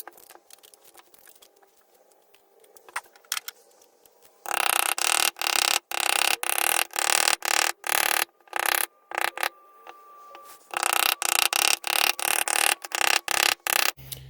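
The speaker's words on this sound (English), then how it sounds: "grab a hammer very quickly and just smack them in" Repeated sharp hammer blows driving staples into a wooden cross-stitch scroll frame, two bursts of rapid loud strikes close by, separated by brief pauses, after a quiet stretch of faint handling noise.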